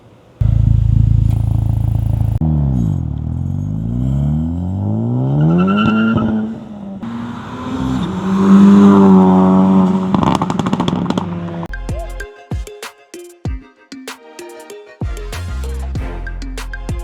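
A 2024 Acura Integra Type-S with an A'PEXi N1-X valved catback exhaust revs loudly up and down in rising and falling sweeps, then settles into a choppy idle with sharp pops and crackles.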